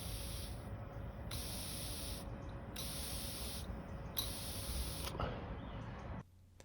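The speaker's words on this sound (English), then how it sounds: "as I let it down, you should hear air blowing through" Air hissing steadily through a scooter carburetor float valve, a faint close-up rush with a few brief higher bursts, cutting off near the end; no one speaks.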